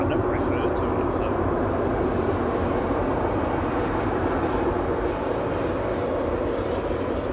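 An airliner arriving from Belfast at Manchester Airport as flight 190 gives a constant, heavy engine roar that fills the whole stretch, with people talking nearby.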